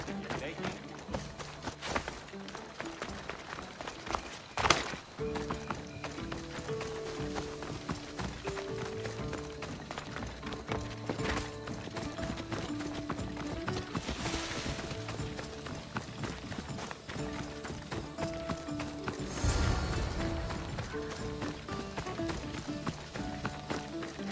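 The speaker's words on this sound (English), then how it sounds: "Now we'll race horses." Horses gallop in the video game Assassin's Creed Odyssey, hooves pounding in a continuous fast rhythm with game music and sound effects layered over them, and a voice talking at times.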